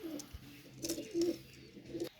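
Pakistani teddy pigeons coo faintly in short, soft throaty bursts spaced a beat or so apart, set against quiet background noise.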